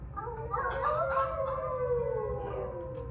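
Wolf howl sound effect in a Dracula radio play, a long wavering cry rising and falling over about three seconds with layered tones, moderately loud against a low steady rumble and no speech.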